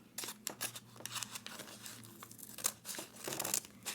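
Crinkling plastic packaging being torn open to get at a colour set, with sharp rustles, rips and crackles in irregular bursts, close and fairly quiet, no talk.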